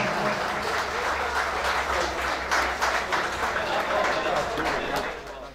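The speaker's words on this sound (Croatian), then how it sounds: "Može, aplauz, može." Wedding guests in a restaurant applaud the newlyweds with steady, dense clapping from a crowd throughout, loud and continuous with a low hum of music beneath.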